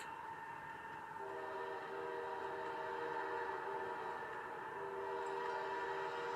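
A train running on mountain rails sounds a sustained horn with steady layered tones, heard at a distance over a continuous low rumble, with no talking.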